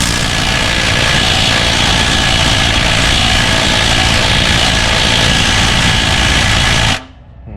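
A pneumatic impact gun works at a bolt on a Dodge 5.9 L engine, a loud, steady buzzing hammer that runs for about seven seconds and then stops abruptly.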